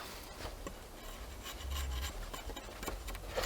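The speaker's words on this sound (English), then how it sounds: "You give it an angle, it just makes such thin little shavings, just like a knife." A small hatchet blade shaves thin slivers from wood, giving soft, close scraping rasps in short repeated strokes at low volume.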